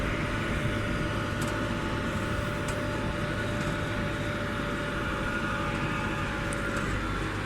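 A Landini 5-100H tractor drives across a field while sowing chickpeas, its engine a steady, loud, continuous rumble and drone heard from close by, with no breaks throughout.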